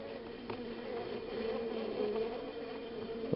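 Honey bees humming inside a hive during late-winter candy feeding, a steady, dense drone that stays even throughout, with a faint tap near the end.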